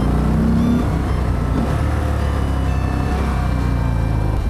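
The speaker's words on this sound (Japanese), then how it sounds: "排気量あるのでアクセル開ければ早いです" Harley-Davidson Fat Bob motorcycle accelerating on the road, a loud, steady low engine rumble filling the whole stretch with a brief rising tone early on, heard from the rider's position.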